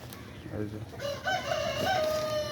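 Broiler chickens on a poultry farm, with a layer and a goat nearby, give a rooster-like crow and some clucking up close at moderate volume over a low background rumble.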